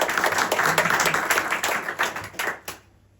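An audience at an in-store event at Volume Records in Dun Laoghaire claps enthusiastically, dense applause that thins into a few last scattered claps and then stops.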